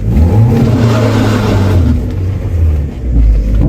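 A Mazda Miata engine is revved hard under load while its slipping clutch keeps the drone droning loud and close rather than climbing freely, with no voices.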